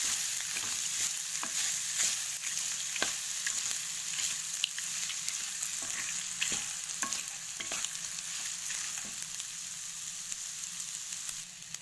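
A spatula scrapes and stirs a rice mixture in a hot frying pan, giving steady sizzling with frequent sharp clicks and taps against the metal, close and fairly loud, with no talking.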